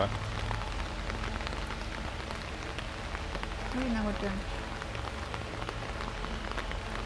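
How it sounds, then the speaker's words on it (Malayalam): Steady heavy rain patters on a surface nearby at a Jain temple, a continuous drumming with a brief voice and faint background noise. "നല്ല മഴയാണ് ഇപ്പോൾ"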